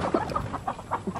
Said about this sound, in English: These are some of the roosters that we've already pulled out of the chick hatching